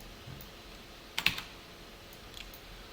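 A short burst of keystrokes while JavaScript code is typed on a computer keyboard: a few sharp clicks clustered together, then a faint pair of taps, over a quiet room hum.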